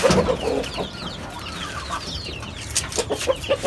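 Chickens on a rooftop garden cluck close by in short bursts that come and go over a soft outdoor background, with no talking.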